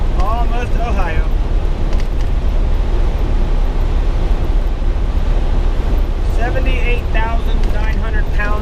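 Strong wind buffets a loaded truck on an Indiana highway near the Ohio border, a constant loud rushing roar mixed with road and engine rumble, with a voice talking over it at the start and again near the end.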